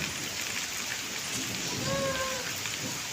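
Steady rain falling in Bangalore, a dense even hiss throughout with a few faint tonal chirps in the background.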